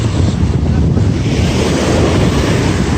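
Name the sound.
strong ocean waves breaking at the beach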